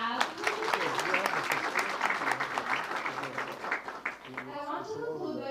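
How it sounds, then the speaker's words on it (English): Audience applause fills a community gathering of an Islamic learning event, steady dense clapping throughout with some voices mixed in, tapering slightly near the end. "Give a clap."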